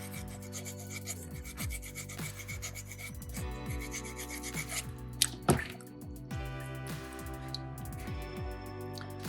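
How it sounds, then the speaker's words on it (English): A hand rasp files a soapstone carving at close range, producing soft, irregular scraping strokes with a few sharper knocks between them. "So use those rasps, use that rasp, just kind of work on creating an angle, if you will,"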